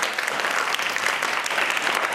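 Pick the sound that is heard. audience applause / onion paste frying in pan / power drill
audience applause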